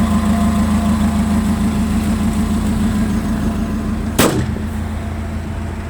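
A Mitsubishi FG15 1.5-ton forklift engine idles steadily and close up, a continuous low mechanical hum with a brief sharp knock near the end, with no talking.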